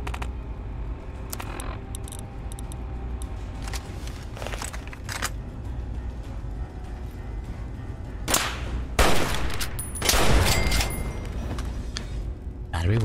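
An automated turret in Fallout fires in bursts of sharp cracking shots, some clustered and a louder volley near the end, against steady game background noise while someone talks.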